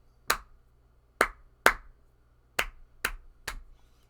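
Six sharp hand claps in an uneven rhythm demonstrating a music rhythm example, crisp and close with short gaps, alone without talk.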